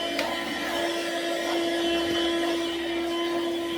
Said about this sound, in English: Just use my vacuuming.